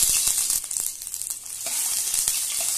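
Ginger paste sizzling with cumin seeds in hot oil over a low gas flame, a steady close crackling fry with faint stirring clicks.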